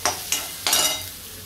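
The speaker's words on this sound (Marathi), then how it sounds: "आता कांदा परतून घेते." Onion sautés in a pan with a steady sizzle, broken by three sharp scraping stirs of a spatula. The sound is close and moderately loud, with no talking.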